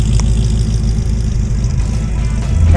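Custom 1955 Chevy Bel Air idling, a loud, close, steady low engine rumble with slight unevenness throughout, and a small rise toward the end.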